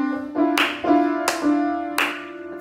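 Hands clap at a slow, steady beat along with recorded music during an online park music session, three sharp claps standing out over sustained tones.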